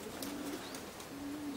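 Racing pigeons at a loft give two soft, low coos, a short phrase and then a longer one, heard fairly close against a faint outdoor background.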